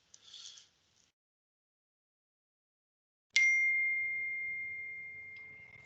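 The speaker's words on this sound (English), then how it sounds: "I heard a ding. That was my phone" A single phone notification ding during an online board meeting: a clear, clean bell-like tone that rings out and slowly fades over a few seconds, preceded by a faint short rustle.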